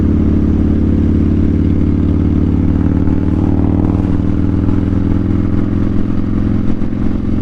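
A motorcycle engine drones loud and close at a steady pitch during a ride, with a continuous low rumble and no voices.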